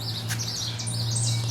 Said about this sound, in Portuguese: E tem um passarinho novo por aí, alguns aí que estão cantando.